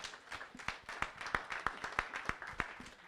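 A small audience at a bench press powerlifting championship claps for a female lifter, with distinct, fairly sparse individual claps in an irregular rhythm over quiet background murmur.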